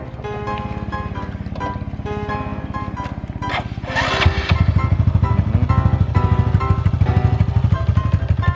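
A Honda Wave 125 motorcycle idles and revs close by beside a road, its steady engine and exhaust thrum rising louder partway through and holding a fast, even pulse.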